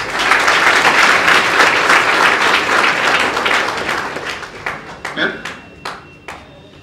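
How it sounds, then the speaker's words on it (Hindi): An audience at a motivational talk breaks into dense, energetic applause that gradually thins out into a few scattered, separate claps before fading. "तालियां बजा दो"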